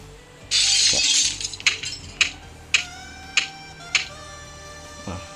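A burst of bright, glassy shattering followed by a series of sharp clinking hits, a block-and-break effect in the Roblox game Project Baki 2, with a low hum underneath.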